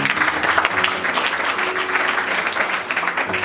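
A church congregation claps for a woman after her testimony on forgiveness, producing a full, sustained burst of dense hand clapping that stays loud and even throughout.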